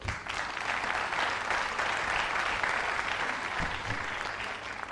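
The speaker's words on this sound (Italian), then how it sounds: "vi pregherei di applaudire calorosamente" A television show audience applauds warmly, a dense steady wash of clapping that continues throughout at moderate volume.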